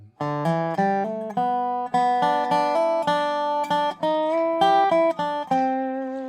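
A resonant dobro plays a slow, twangy bluegrass phrase with hammered-on notes, clear and close, with no other sounds.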